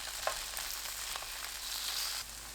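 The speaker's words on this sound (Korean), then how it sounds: "팬에 식용유 1큰술 두르고 센 불로 두부를 구워주세요" Tofu pan-frying over high heat in a tablespoon of cooking oil, producing a continuous close sizzling hiss with a faint low hum beneath it.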